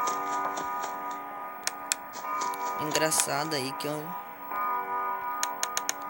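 An old clock ticking in the Five Nights at Freddy's 4 video game, with steady sharp ticks at regular intervals under a game hum, while someone speaks over part of it.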